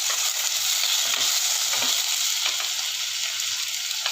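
Onion and tomato sauté in a pan for a soup, giving a loud, dense, continuous sizzle up close with faint stirring scrapes underneath and no voices.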